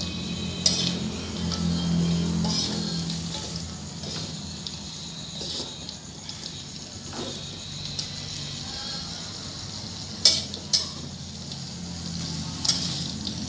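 Tempeh orek is stirred in a pan over a quiet, steady sizzle, with occasional clinks and scrapes of a utensil against the pan, loudest toward the end.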